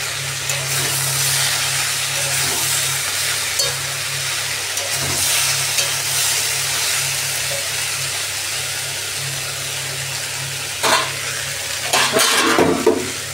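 Sliced capsicum and long-cut tomato fry in a pan with a steady sizzle and a low hum underneath, with occasional metallic stirring taps and clatters growing busier near the end; no one speaks.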